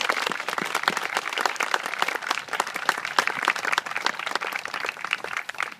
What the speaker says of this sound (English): How about a round of applause for all of our veterans?